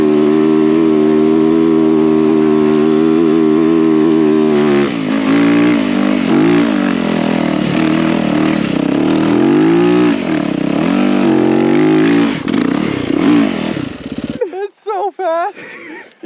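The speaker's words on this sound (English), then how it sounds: "The Busa made pretty short work of the biggest, tallest, steepest sand hill in the US." A Suzuki Hayabusa street bike fitted with a paddle tire climbs sand dunes, its engine revving hard. Rising and falling pitch sweeps build to a loud, sustained howl before choppy bursts as the throttle cuts near the end.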